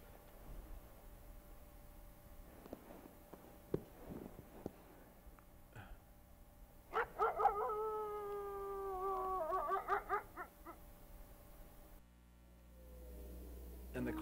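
Yellowstone wolf giving a long, drawn-out howl that rises and wavers for several seconds, heard alone and at a distance over faint background hiss and hum.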